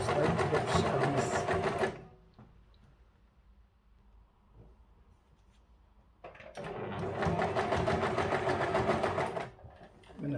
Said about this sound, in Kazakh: Бұның бойынан осылай тігіп шығамыз.